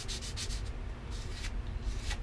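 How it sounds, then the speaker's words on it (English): Coarse 100-grit sandpaper rubbed back and forth over the tips of a handmade wooden propeller, a steady close scratchy rasp in repeated strokes with no talk. "So we're going to sand to this shape"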